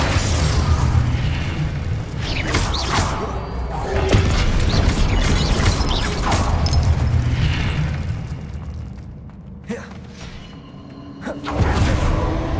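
A Confringo fire spell in the Hogwarts Legacy video game lands in a string of loud booming blasts and crashes, rumbling one after another with short dips between impacts.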